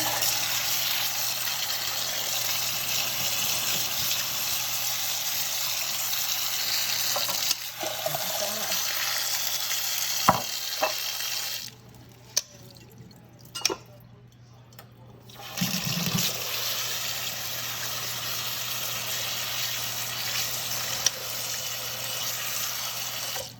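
Water runs continuously from a tap, splashing over seeds in a strainer as they are rinsed for homemade granola, with a brief pause midway and a few handling clunks.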